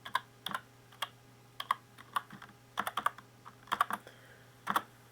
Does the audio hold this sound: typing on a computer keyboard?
yes